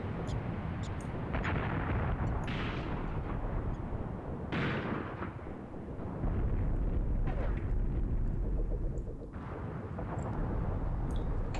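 ZIS-3 field guns fire in the Graviteam Tactics war game, heavy booms and rumbling blasts rolling out at a distance amid continuous battlefield noise and wind-like roar.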